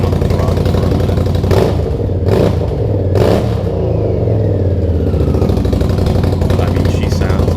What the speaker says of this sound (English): Listen here as I get on the throttle for a minute.